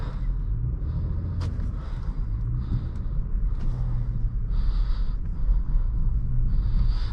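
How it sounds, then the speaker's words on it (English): A 2020 Acura MDX SUV rolling over a rough gravel road, heard from inside as a steady low road rumble with tire noise and faint crunching, continuous for several seconds with no talking. "I'm driving over this like rough gravelly road right here"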